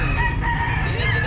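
Chickens crow and cluck continuously at a busy pet market in Baliuag. Overlapping fowl calls ride on a dense, loud bed of crowd noise, with no clear pauses.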